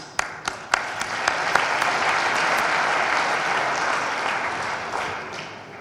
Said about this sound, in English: just a clap for the organizing committee